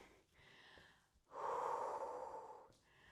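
Heavy, loud panting right after a Tabata interval workout, with a couple of short inhales followed by a long, forceful exhale-rich stretch of breathing that tapers off and resumes.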